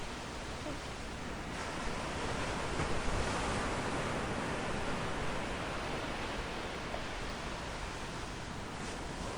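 Crashing ocean waves in Minecraft with a physics mod give a continuous broadband surf wash, loud and steady, with a slight swell in the middle and no talking.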